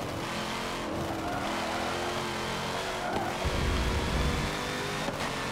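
A race car roars through an endurance race in the video game Forza Motorsport 7. Its engine drones steadily and loudly at close range, with brief surges and a faint hint of tire noise.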